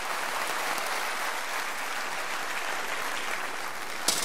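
Sustained applause from a theatre audience at a one-man comedy show, a dense steady patter of many hands clapping at moderate distance, ending with a sharp clap.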